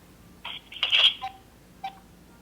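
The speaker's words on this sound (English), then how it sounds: "your phone's ringing" A telephone rings indoors, a short electronic warble of two bursts, the first longer and louder, followed after a pause by a brief third chirp, with no talk over it.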